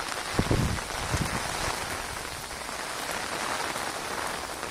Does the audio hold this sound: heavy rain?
yes